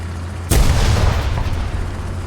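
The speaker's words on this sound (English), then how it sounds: "I see the Stug is shelling us again" A StuG tank shell lands in a video game as a single loud artillery boom with a sharp onset, followed by a long rumbling decay.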